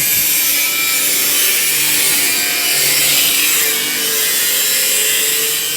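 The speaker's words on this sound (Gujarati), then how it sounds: "જોઈ શકો છો પતરો પણ કપાય છે" Sheet metal being cut for a building frame at a construction site, a loud continuous grinding rasp that holds steady throughout with slight swells, no talk over it.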